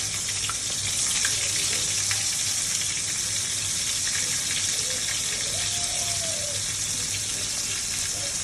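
Fish frying in mustard oil in a pan, a steady close hiss and crackle of sizzling fat running unbroken and fairly loud throughout, with no talking.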